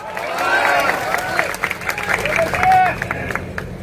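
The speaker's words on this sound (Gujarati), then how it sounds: "આપણે ઘણી બધી તાળીઓની ધડબડાટી બોલાવી." Rally crowd in Jetpar applauding and cheering, dense clapping with crowd voices rising and falling throughout, fairly loud and steady.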